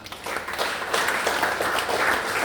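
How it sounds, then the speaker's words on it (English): Audience at a comedy night in Abergavenny applauding dense and steady as a crowd, close and loud, filling the whole stretch without talk. "So can we start with a bit of slow clapping?"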